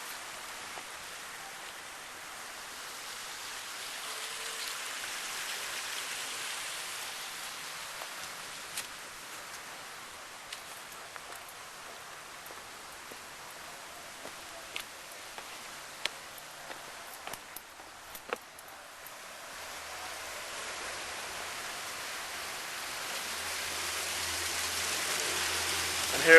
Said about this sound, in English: And here we have the waterfall